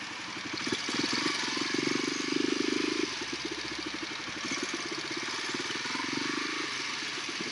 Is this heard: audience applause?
no